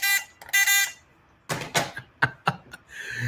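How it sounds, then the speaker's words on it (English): A buzzer sound effect plays during a live stock market stream: a couple of harsh buzzing tones open it, followed by scattered clicks and knocks, with no talking. "we need the buzzer"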